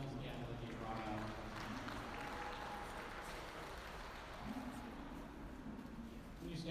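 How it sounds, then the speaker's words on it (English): Audience applause for cows at a Holstein dairy cattle show rings out as a steady, dense wash of clapping through an arena or barn, with an announcer talking over it throughout. "let's give them a nice round of applause for these cows that they brought out"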